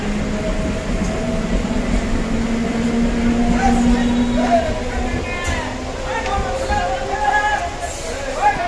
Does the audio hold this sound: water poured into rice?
no